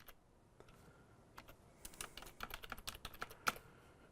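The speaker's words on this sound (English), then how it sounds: "And then I type in the name of the resource," Computer keyboard typing heard alone, starting with scattered keystrokes and building into a quicker, irregular run of clicks, with a sharper, louder key strike near the end.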